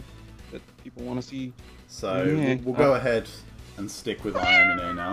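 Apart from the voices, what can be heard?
cat meowing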